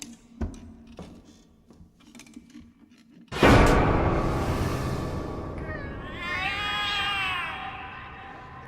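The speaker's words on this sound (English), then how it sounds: "The cats are alarming." Cats in the video game The Cat Lady, a sudden loud burst of agitated yowling after a quiet stretch of faint ticking, followed by drawn-out wavering meows that rise and fall, alone without talk.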